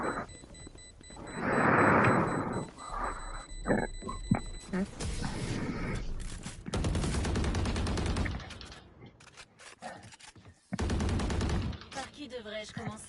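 Pistol gunfire in the sci-fi shooter Spacelords, loud shots ringing out in bursts among game sound effects and music, with someone talking over parts of it.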